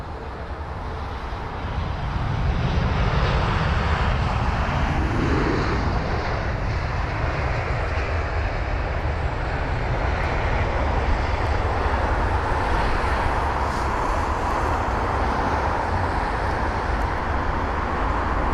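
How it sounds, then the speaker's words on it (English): Singapore Airlines A380 airliner taxiing at London Heathrow after landing on runway 27 left, a loud, continuous roar of jet engines with broad rushing noise that holds steady throughout. "There's the Singapore A380 that has actually arrived on runway 27 left."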